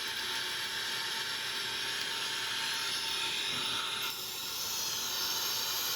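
Boeing 777-300ER jet engines at maximum takeoff thrust in a flight simulator game, a steady broadband roar and hiss held evenly throughout, with a slight shift in tone partway.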